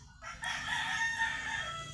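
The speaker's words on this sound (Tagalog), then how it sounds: "kakaibang manok ay ito" A fighting rooster crows loudly and steadily for about two seconds, its harsh, drawn-out call filling the clip over faint background noise.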